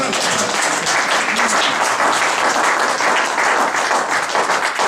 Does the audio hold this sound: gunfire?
no